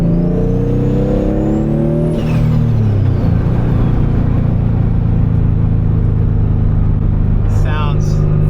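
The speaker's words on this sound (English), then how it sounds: "Always cars, always traffic." Road traffic with cars passing close by, a steady engine rumble and whir throughout with a rising sweep early on, heard from inside a Nissan Silvia Spec-R S15, with a voice speaking over it.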